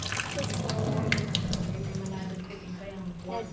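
Water running hard from a leaking faucet, a steady splashing wash close by, with someone talking over it throughout.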